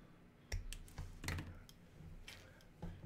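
Plastic pieces clipped off a model car kit, a few quiet sharp snips and clicks scattered irregularly at close range, with no talking.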